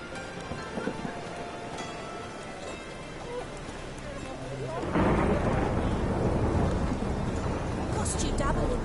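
Heavy rain and rolling thunder in The Witcher video game, a steady rush of downpour that swells sharply halfway through and stays loud to the end.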